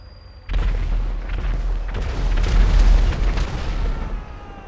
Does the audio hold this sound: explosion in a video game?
yes